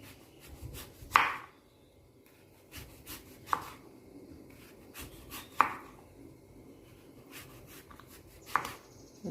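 Knife strikes chopping taro root into equal-sized pieces on a board, four or five sharp, well-spaced cuts with quiet handling noise between them, close by and alone.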